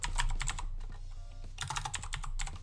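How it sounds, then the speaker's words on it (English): Fast typing on a computer keyboard, close and clear: rapid bursts of key clicks, a short pause in the middle, then another quick burst, with no talking. "then we can type hello world"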